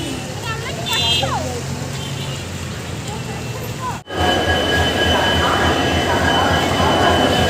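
Trains at Howrah railway station, where a Vande Bharat and a Howrah-Barbil Jan Shatabdi wait at the platforms: a loud, steady rail rumble with brief wheel squeals and whistle-like tones, a momentary cut midway, and people talking throughout.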